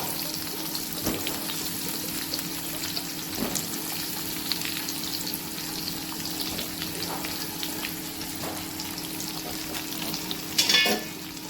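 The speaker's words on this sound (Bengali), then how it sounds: "দিয়ে দিলাম কুমড়ো আর রাঙালি এগুলো বেশি ভাজবো না হালকা করে ভেজে" Pumpkin, sweet potato and potato pieces fry in oil in a wok with a constant close sizzle and faint stirring scrapes, ending with a brief metallic clink, and no one speaks.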